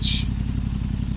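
Yamaha R7 motorcycle fitted with an Akrapovic exhaust, its engine running at a steady, deep, throaty idle with a continuous low pulsing rumble throughout the short moment, up close and loud.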